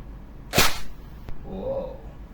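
EC 702 airsoft rifle with M203 launcher fires a single semi-auto shot, one sharp close snap followed by a fainter click and light ambient noise.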